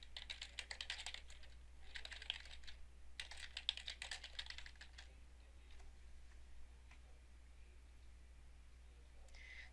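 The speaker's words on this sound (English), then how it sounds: "or you can type it in." Computer keyboard typing in quick bursts of close, crisp key clicks with short pauses between them, then sparse faint taps fading into a quiet hum.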